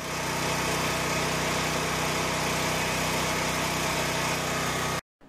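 A home backup generator runs through an interlock, making a steady, loud mid-pitched engine drone with constant vibration, with no talking, then cutting out abruptly near the end.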